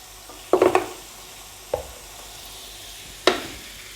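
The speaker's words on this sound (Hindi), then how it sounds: "अब मैंने इसमें डालने हैं पाए।" Mutton trotters (paya), cut into small pieces, dropped into frying masala and stirred: a close clatter of pieces landing and a spoon scraping the pan around half a second in, then two more sharp scrapes over a faint sizzle.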